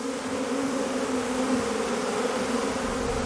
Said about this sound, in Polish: Na pewno masz całą szyję pełną pszczół.